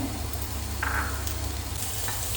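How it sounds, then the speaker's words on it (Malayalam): Shallots and green chillies frying in coconut oil for coconut chutney, a steady close sizzle with a few brief crackles over a low background hum. "ഇനി അതിലേക്ക് ഇട്ട് കൊടുക്കുന്നത് നമ്മുടെ ഉള്ളി, നല്ല ചെറിയ ഉള്ളി, കൊച്ചുള്ളിയും പച്ചമുളകും കൂടെ ഇട്ട് കൊടുക്കുവാണേ"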